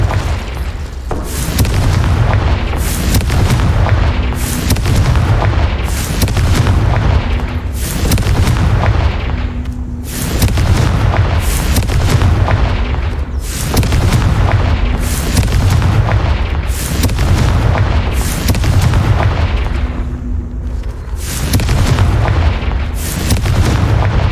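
Incendio and Confringo spell blasts from Hogwarts Legacy go off in a steady barrage of heavy booming explosions, each a loud close burst with rumbling tails, repeating every second or two throughout.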